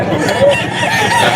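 Roosters and hens at the Bocaue chicken market, with crowing and clucking in a noisy, crowded mix and a brief high call standing out amid background chatter.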